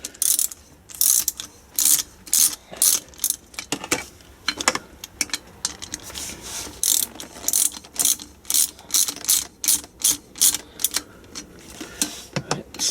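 A ratchet tightens a bolt on a Land Rover Defender TD5 gearbox, giving a long run of close, rapid clicking strokes in uneven bursts with short pauses between pulls.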